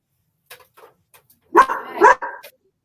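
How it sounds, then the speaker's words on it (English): A dog barks indoors during a home craft session, a few faint yips followed by two louder, closer barks and a trailing whimper, with no talking over it. "I'm going to mute while I go tell the dog to be quiet"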